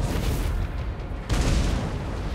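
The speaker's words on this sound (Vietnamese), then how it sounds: "khẩu pháo này lại bắn chất thế nhỉ?" Cannon fire from artillery in the strategy game Total War: Warhammer 2, a dense, rumbling battlefield wash of booms with a sharper blast surging about halfway through, loud and continuous with no talk.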